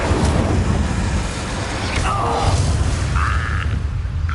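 A fiery Incendio spell blast from a Hogwarts wizarding video game, a loud sustained rumbling burst with crackling flare-ups over a dense low roar.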